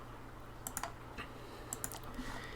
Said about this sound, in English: I'm just holding down Command Z